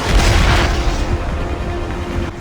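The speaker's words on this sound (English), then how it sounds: "Okay, someone is shooting at me." Heavy booming blasts and gunfire in the space-combat video game Dead Space 3, a loud continuous low rumble of explosions dense at the start and fading slightly, with no voices over it.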